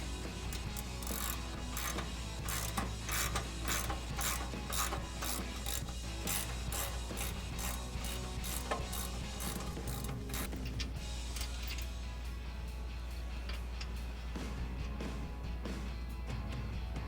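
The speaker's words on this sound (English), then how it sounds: "Then we can take our 18mm socket and just loosely tighten those down." An 18mm socket ratchet clicks rapidly and repeatedly while tightening front bumper bolts on a Jeep Wrangler JL, steady pawl ticking in close bursts over a low hum, thinning out toward the end.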